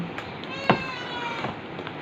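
A house cat meows once, clear and fairly close, with a couple of softer follow-up mews in a quiet kitchen.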